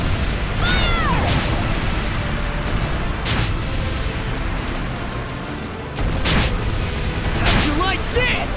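Cannon fire in the Ys X video game: heavy booms sound over a dense, loud battle din, with shouted voices and whistling effects at the start and end.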